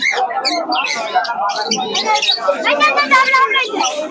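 Doves and pigeons at a bird market call and chirp in busy overlapping bursts, mixed with a crowd of voices talking throughout.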